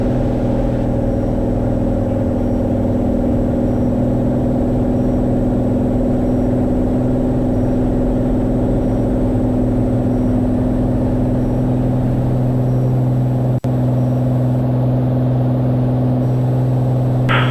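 A Cirrus SR22 aircraft engine at full takeoff power makes a loud, constant droning hum with steady tonal harmonics, filling the whole stretch without any talk.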